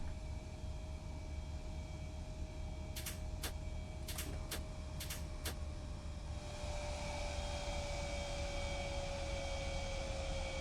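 A Southwest airliner departing in the X-Plane 11 flight simulator: a steady, droning jet roar that swells slightly brighter toward the end, with a few sharp cockpit clicks in the middle.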